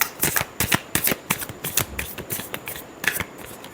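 A deck of tarot cards is shuffled by hand, producing quick, close papery riffles and slaps in a steady run of bursts with no talking.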